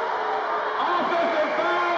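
A home crowd roars its disapproval at a 1996 Dudley versus Smith high school basketball game, a sustained wash of crowd noise heard beneath an announcer's continuous commentary.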